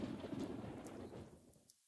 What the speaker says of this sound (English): The pitter-patter of rain in the trees